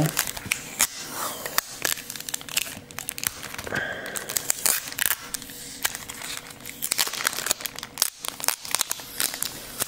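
Crinkling and tearing of taped plastic blister packaging with sharp crackles and rips, close up, in irregular bursts, with no talking.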